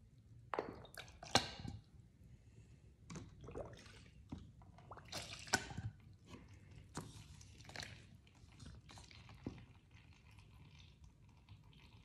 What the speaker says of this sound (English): The water that's dripping off the painting is going right through the egg crating